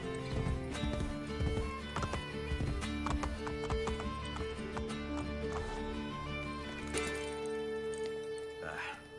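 Horse hooves clip-clop in Assassin's Creed Brotherhood, a brisk repeating rhythm close by, with a short whinny near the end and game voices talking over the hoofbeats.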